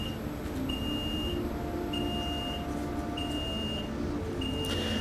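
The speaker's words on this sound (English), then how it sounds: "that beeping's because I'm recording this at work. I'm a technician, so there's a lot of computers and whatnot monitoring equipment" Workplace computer monitoring equipment in a technician's shop emits a repeating electronic beep, short high tones at even intervals of roughly a second, faint and steady over a low background hum.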